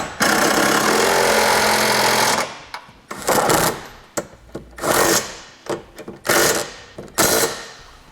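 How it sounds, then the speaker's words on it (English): Power tool, likely an impact wrench, snugging down the flange nuts and U-bolt hardware of a Curt trailer hitch on a 2010 Honda Accord: one long steady buzzing run, then a string of short sharp bursts. "now we'll go through and snug down our hardware"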